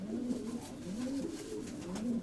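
A domestic pigeon coos softly and close by in a loft, a series of low rolling coos repeating about every second.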